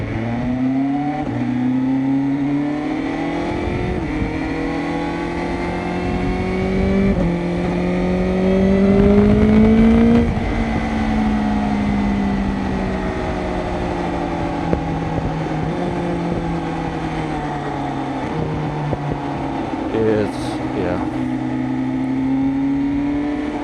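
2026 BMW M1000R motorcycle accelerating through the gears on an evening road, a loud steady engine drone rising and falling in pitch with each shift, wind noise throughout.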